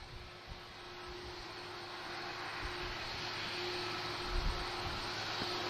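Airplane taking off from the runway at Lisbon Airport, a steady, distant engine roar that builds slightly over a few seconds, with a faint constant hum underneath and no voices.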